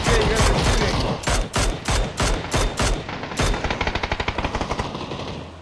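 Rapid bursts of automatic gunfire from the battle royale game PUBG, loud and close, with a dense sustained volley giving way to a steady string of evenly spaced shots.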